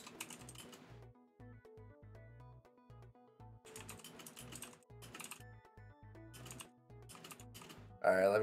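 Keyboard keys clatter in quick bursts during a chaotic session of the AI party game Death by AI, with talk and a lively music bed running underneath and a louder burst at the end.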